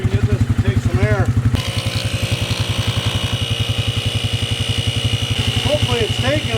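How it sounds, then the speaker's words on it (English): A small 12-volt air compressor pumps air into a tractor tire in cold weather, chugging in a fast, steady rhythm close by while a voice talks over it. "I have a little 12 volt air compressor here."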